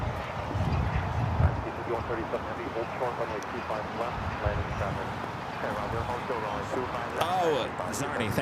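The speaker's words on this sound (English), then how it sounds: "We have a United Dreamliner arriving on the north side." A United Boeing Dreamliner jet arrives at LAX on the north side, its engine roar a steady distant rumble beneath continuous talking.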